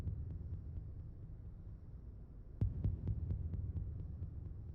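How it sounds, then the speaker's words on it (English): A steady heartbeat pulse throbs beneath a low ambient hum in a tense romantic scene from the Mass Effect video game, with a run of evenly spaced beats growing slightly louder partway through. "Like there's a heartbeat going on in the background."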